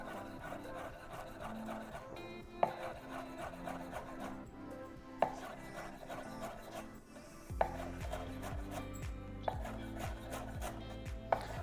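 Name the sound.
knife finely chopping fresh oregano for chimichurri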